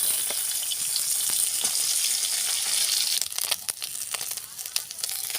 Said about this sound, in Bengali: মাছগুলো খুব ভালো করে ভাজা হয়ে গেছে